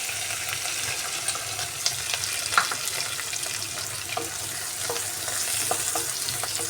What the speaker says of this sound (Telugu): రెండు మూడు నిమిషాలు బాగా వేగనిద్దామండి